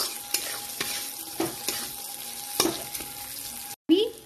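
Masoor lentils sizzle and fry in a wok as a spatula stirs them, with steady close frying hiss and sharp scraping clicks at intervals, then a brief silence and a louder scrape at the end.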